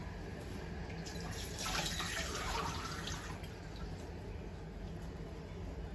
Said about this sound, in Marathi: थोडंसं पाणी टाकते त्यात